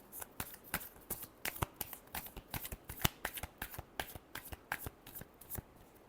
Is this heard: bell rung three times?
no